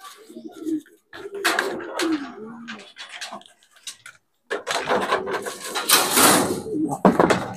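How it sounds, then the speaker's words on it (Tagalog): Racing pigeons coo and flap among clattering, knocking noises at a loft during a race arrival, with short bursts of activity and a few shouted calls nearby. "Ito palang unang kalapati natin."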